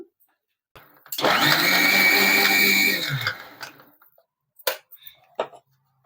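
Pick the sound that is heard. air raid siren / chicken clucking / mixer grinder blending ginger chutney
mixer grinder blending ginger chutney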